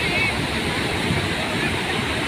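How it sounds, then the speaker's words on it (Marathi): Water rushes loudly and steadily at Khodshi Dam, a broad unbroken roar that fills the scene from start to finish. "तुम्ही बघू शकता पाण्याचा आवाज कसा येत आहे"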